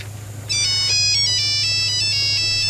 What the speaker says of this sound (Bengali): প্লিজ ফোনটা ধরো, নিশ্চয়ই ইম্পর্টেন্ট ফোন কর।